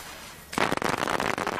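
Firecrackers set off by children go off as a close, rapid burst of sharp crackling pops after a short hushed lead-in.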